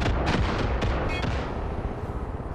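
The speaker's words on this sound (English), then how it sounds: "I think I'll just bomb this one." A heavy bomb blast in the video game Far Cry 5 booms out with a burst of crackling, rumbling debris, followed by a sustained low roar and scattered sharp pops that fade slightly.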